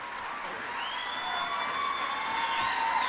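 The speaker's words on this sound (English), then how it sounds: "Brought my own cheering section." An audience at an ambulance-service benefit cheers and whoops for the speaker who has just been introduced, a sustained crowd roar with a few high, rising shouts riding on top, moderately distant and building slightly toward the end.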